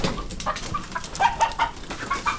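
Dekalb brown hens cluck in a steady run of short, bright calls that overlap one another, at moderate volume close by.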